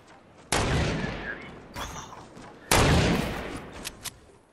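Two loud bursts of gunfire erupt in a Fortnite match, each a sharp onset trailing into a rattling decay, separated by quieter ambient game sound.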